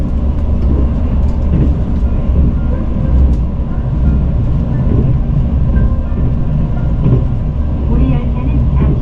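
A Mugunghwa train runs on the Gyeongbu Line toward Gimcheon. A loud, steady rumble and rolling rail noise continue unbroken throughout.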